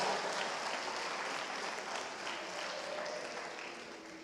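Congregation in a church clapping together, a broad, sustained round of applause that holds steady, then slowly fades toward the end.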